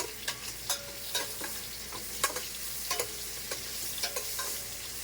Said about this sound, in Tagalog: Gisahin natin yung tuna kasi medyo malansa